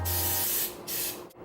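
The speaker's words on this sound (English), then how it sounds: "Be sure to spray this really well with your canola oil." Canola oil cooking spray hisses from an aerosol can into a muffin tin in a kitchen, as two sustained close bursts with a brief pause between them, followed by a short lull.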